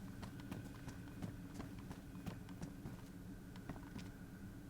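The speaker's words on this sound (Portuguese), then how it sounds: "Tá escutando o som da galera andando." Footsteps of players moving through a bunker in the video game DayZ come as quick, sharp taps in an uneven clip-clop rhythm, faint and steady over a low hum, with no speech.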